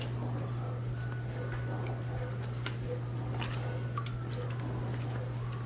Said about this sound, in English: as you stretch it, if there's like clumps, can you kind of squeeze it and work through the clumps?